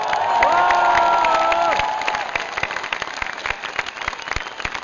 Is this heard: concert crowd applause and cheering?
yes